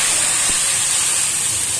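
Blended spice paste hitting hot oil in a pan, a loud, steady broad sizzle and hiss that carries on without a break and with no speech over it.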